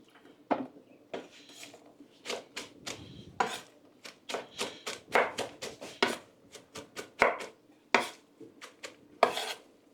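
Rapid, irregular clatter of a utensil knocking and chopping against a pot of goat okro soup, sharp bursts one after another, close and busy with no talking.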